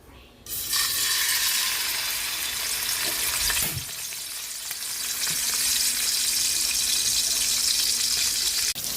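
Fish frying in a hot pan of oil, a loud, continuous sizzle that starts abruptly as the fish goes in, with a couple of soft clatters partway through.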